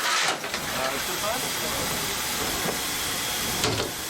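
Steady broadband hiss of steam escaping from a 241-P steam locomotive, loud and continuous through the whole stretch, with a couple of brief surges.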